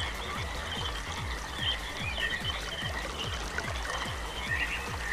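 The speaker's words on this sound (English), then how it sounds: "Now you hear water running." Running water in the RealMYST video game, a soft steady trickle and flow beneath regular low rhythmic pulses repeating about twice a second, fairly quiet overall with no talking.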